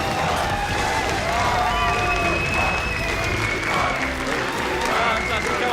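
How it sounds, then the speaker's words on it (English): A large esports arena crowd at a League of Legends playoff match cheers and sings together, a loud sustained roar with rising and falling chant-like tones that fills the whole stretch. "I'll let the crowd sing it for us."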